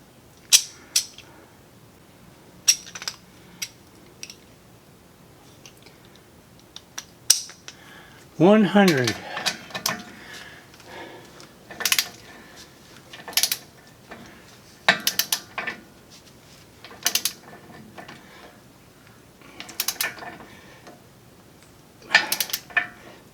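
Big heavy nut being tightened with a ratchet during a steering install, heard as scattered close metallic clicks and clanks of the tool and parts, spaced irregularly with pauses between.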